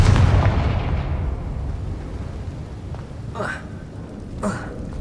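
A Confringo blasting spell in Hogwarts Legacy bursts with a deep rumbling boom that slowly fades, followed by two brief whooshing magical flares, all fairly loud and up close.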